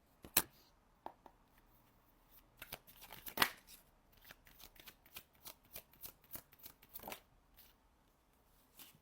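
Playing cards riffled and shuffled in quick, crisp bursts with short pauses between them, close and fairly quiet.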